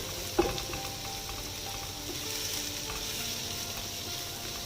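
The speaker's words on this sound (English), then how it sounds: "So we keep on stirring our onion" Onions frying in a pot give a steady, close sizzle, opening with one sharp knock of a spoon against the pot, then a continuous crackling hiss with no talking.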